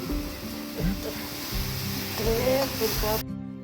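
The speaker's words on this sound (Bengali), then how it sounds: "পিসি মাটির উনুনে রান্না করছে এই টেস্টে পিসি ভাজাটা দেবে" Food fries in a pan on a traditional clay stove in a village home, a steady close sizzle running throughout, with voices talking over it.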